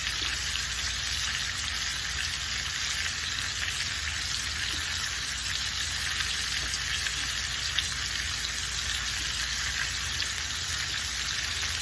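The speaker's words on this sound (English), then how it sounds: "the pork chops are ready to turn. So we're gonna let those cook for about 4 or 5 minutes on the other side" Pork chops fry in a pan beside peppers being stirred, giving a constant, even sizzle and hiss that stays level throughout with no voices.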